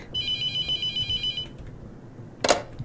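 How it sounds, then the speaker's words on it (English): A telephone rings in The Mortuary Assistant video game, giving a steady series of electronic ring bursts that then stop, followed by a short, sharp clatter near the end. "Answer the phone real quick."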